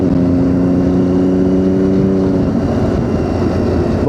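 Triumph Daytona 675 motorcycle with a straight-through exhaust, its engine holding a loud, steady droning note with strong harmonic tones that shift slightly partway through, close by and alone without talk.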